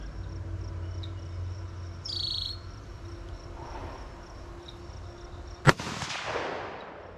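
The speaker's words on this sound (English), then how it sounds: "Last shot" A single sharp shot from a Ruger American Predator rifle in 6.5 Grendel cracks out loud at a 100-yard range, then rolls away in a fading echo over a steady chorus of chirping crickets.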